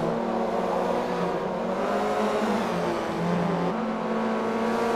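Several BTCC touring cars race in a video game at the Camino track, their engines a loud, continuous layered drone as they climb out of a ravine, with the pitch rising and falling slightly; no commentary over it.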